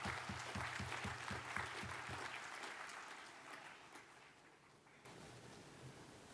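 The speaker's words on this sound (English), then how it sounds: "Let us give a round of applause to the graduates who have just been presented." A crowd claps steadily in a large room at a university graduation ceremony, the applause fading gradually before a brief quiet and a fresh patch of room noise.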